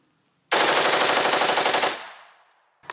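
An AK-variant rifle fitted with a bump stock fires a fast, loud burst of about a second and a half of closely spaced shots, followed by a decaying echo and one faint click.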